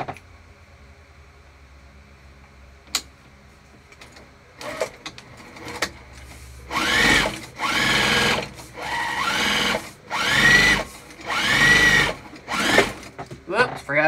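A sewing machine runs a second line of stitching in the seam allowance of a crossbody bag, giving several short, loud, whirring bursts with brief pauses between them after a quiet opening. A voice speaks over part of it.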